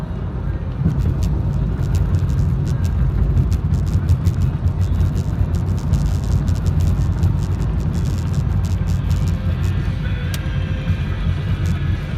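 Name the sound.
road traffic passing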